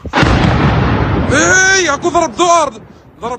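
A rocket strike explodes in the Golan Heights, a loud booming blast followed by a rising, wavering siren-like wail that starts, stops and resumes in short bursts.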